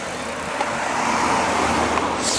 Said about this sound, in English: As the car passed by, we were left alone again.